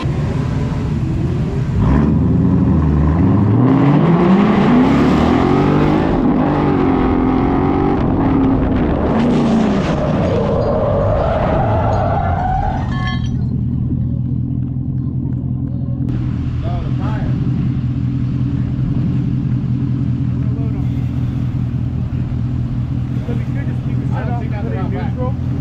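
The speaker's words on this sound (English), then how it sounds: "Now we go back to drifting." A car with a failed wheel and its bumper removed drifting at around 60 mph, engine revving and rising in pitch before cutting to a steady low rumble, loud and close, with people talking.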